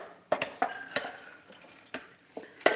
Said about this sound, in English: these are going in the crock pot right here